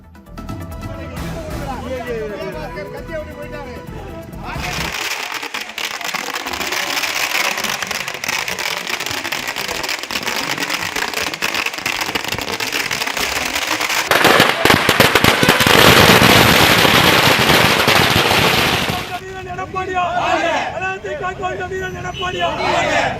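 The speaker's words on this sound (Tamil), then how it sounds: "விஜயபாஸ்கர் அவர்கள் ராஜினாமா செய்ததை வெடிவெடித்து கொண்டாடி வருகின்றனர்" AIADMK party members in Pudukkottai set off firecrackers in celebration of a resignation: a dense, loud crackling barrage that runs for most of the time, with crowd chatter and voices throughout.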